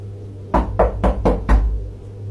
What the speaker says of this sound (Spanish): Alguien tocó a la puerta